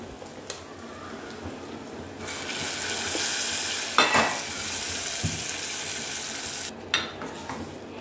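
Curry leaves drop into hot oil with onions for a tempering, setting off a loud rising sizzle that swells and hisses on, punctuated by clinks and scrapes of a utensil against the pan.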